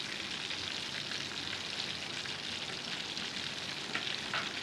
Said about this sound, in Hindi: अच्छे तरीके से मिक्स कर लें।